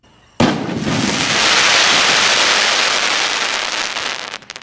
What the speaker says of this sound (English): crackle is made by adding lead oxide to the mixture within the formula